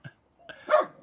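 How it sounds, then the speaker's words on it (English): A dog barks up close, giving one short yip, then a louder whining bark in a quick one-second burst. "is just in meditation right now as Bernard continuously barks at her"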